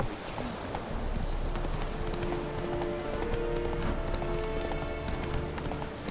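Roach, a horse in The Witcher 3 video game, trots with a steady, continuous clip-clop of hooves that stays close and even throughout, set against sustained game music and ambience.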